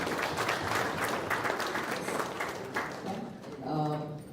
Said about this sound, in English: Can we have a good applause for him?